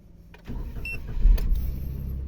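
A Perodua Axia E car engine starts up from inside the cabin: a short starter click and whir, then the engine catches and settles into a steady, close idle hum.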